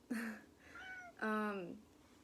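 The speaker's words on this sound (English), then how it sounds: "that's my cat." A cat meows twice, close and fairly clear, the second call longer and more drawn out than the first.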